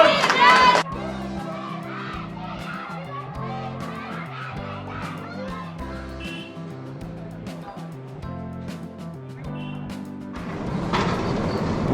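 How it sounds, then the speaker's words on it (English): Schoolchildren cheering at an Environment Day awareness rally in a town, a loud chorus of shouting voices with tonal calls sustained throughout, nearby, with a brief louder burst at the start and end. "We are cheering them up."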